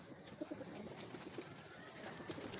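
Very faint pigeon cooing, from a flock just let out including Giribaz birds, murmurs low and intermittent under a soft ambient hiss.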